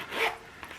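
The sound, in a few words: small zipper on a wallet being opened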